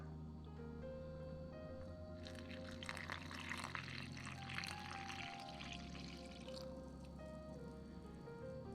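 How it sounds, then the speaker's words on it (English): Water pours into a well in the center of flour for homemade campagne bread dough, a soft steady trickle lasting several seconds, faint and close, over a quiet kitchen hum. "First thing we do is add our water"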